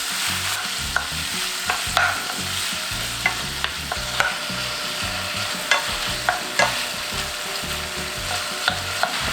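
Chicken breast and potato stir-fry with chili and garlic over low heat, a continuous close sizzle broken by regular spatula scrapes and taps on the pan.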